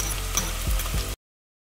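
Red and green peppers hit a pan of softened onion and sizzle steadily, a dense, close frying hiss with a few stirring knocks, ending abruptly after about a second.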